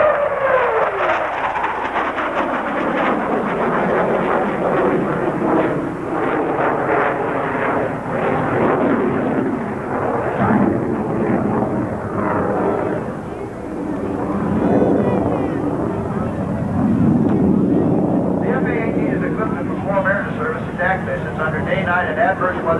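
A military jet roars past at high speed at an air show and pulls up into a vertical climb, its loud engine noise rising and sweeping in pitch as it goes by. An announcer talks over it throughout.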